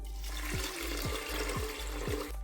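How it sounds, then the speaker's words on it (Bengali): Water pouring into a pressure cooker holding mung dal, a steady close gushing splash with a few rhythmic gurgling pulses as the vessel fills. "এর মধ্যে ডালটা দিয়ে দিচ্ছি আর দিয়ে দিচ্ছি জল"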